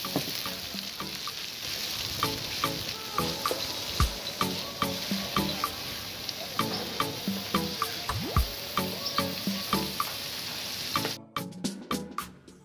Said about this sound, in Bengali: পেঁয়াজটাকে ভাজতে থাকবো যতক্ষণ না লালচে